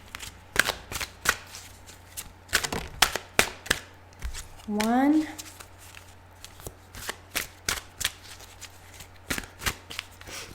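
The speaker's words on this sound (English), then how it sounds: "it sounds a bit too loud when I shuffle in the microphone" Tarot cards are shuffled loudly right against the microphone in a series of sharp riffling bursts, while a voice speaks briefly.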